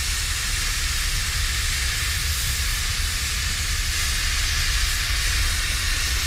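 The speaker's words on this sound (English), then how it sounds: "Steam leak?" Steady, broadband steam hissing from a leak in the horror game Ethel, a continuous loud rush with low rumble underneath, unbroken and without any voices.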